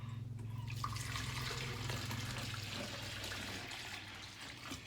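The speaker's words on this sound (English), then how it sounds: "I'm gonna put 50 ounces of water in my 5-pound bag of glaze" Water poured from a container into a 5-pound bag of pottery glaze powder in a barn studio without running water, a steady close splashing pour that holds for several seconds with a low hum beneath.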